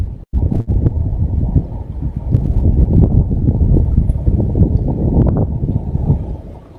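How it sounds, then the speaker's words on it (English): Wind buffeting the microphone outdoors, loud rumbling gusts that surge and hold steady throughout with no talk. "the wind is doing the same sound"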